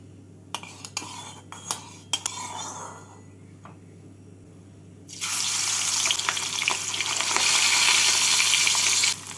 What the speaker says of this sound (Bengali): তেলটাকে ভালো করে গরম করে নিয়ে এর মধ্যে মাছগুলোকে ভেজে তুলে নেব